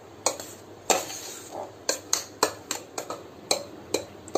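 Mashed hot potato mixed with fine semolina in a bowl, heard as a run of light, irregular clicks and taps of a utensil against the bowl, close and fairly quiet with no voices.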